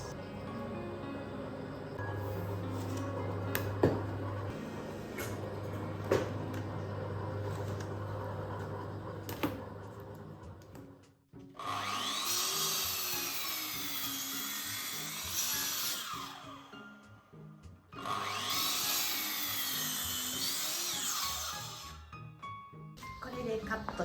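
Power saw cutting wooden boards to length for a board wall over a concrete block wall in an old house renovation, two loud sustained cuts of several seconds each, alone after a stretch of quieter handling noise and talk.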